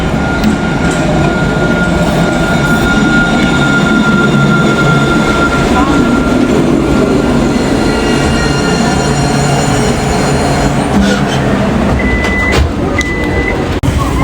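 A Nottingham tram pulls into a stop, a loud continuous rumble of wheels and motor with faint squeals and a few high beeps near the end.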